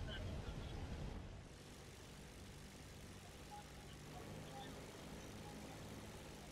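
Propeller warplane in the War Thunder tanks-versus-planes mode at a gaming expo, a low steady engine drone that is louder in the first second and then holds at a constant level.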